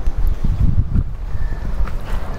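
Outdoor wind on a breezy day over a Bermuda-grass lawn, heard as steady low rumbling gusts and microphone buffeting throughout, fairly loud and close, with no talking.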